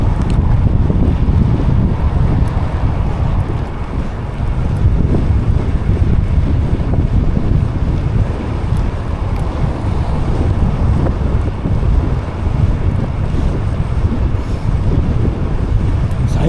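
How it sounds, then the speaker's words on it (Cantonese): Strong wind buffets a cyclist riding through Dublin, a loud continuous low roar and rumble that stays steady throughout with no clear breaks. "使唔使咁大風啊？"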